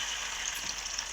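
Fish sizzling in a pan of oil, a steady close hiss and crackle without any break.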